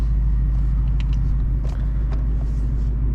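A modified 2018 Ford Mustang GT V8 cruising, its deep steady engine rumble droning close and loud from inside the cabin, with faint road noise and no talk.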